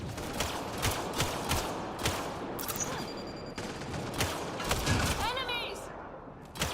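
Rapid gunfire bursts in the sci-fi shooter Mass Effect Andromeda, repeated sharp cracks across a busy firefight with brief electronic weapon whines, loud and near over a constant battle din.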